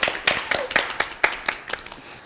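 An audience claps for a hair makeover at a Korean event, sharp separate claps in a quick, slightly uneven rhythm, fairly close, short and moderately loud with no speech over them.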